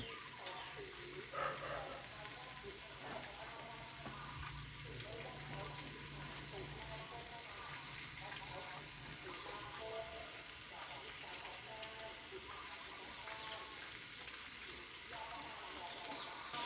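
Ingredients dry-roasting in a pan for a pork and pumpkin curry give a steady, soft crackling hiss with a scraping stir now and then. A voice talks intermittently over it.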